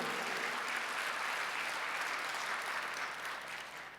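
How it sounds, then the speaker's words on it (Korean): Steady, dense applause from a large congregation at a Sunday church service, sustained throughout and tapering slightly at the end. "박수하세요"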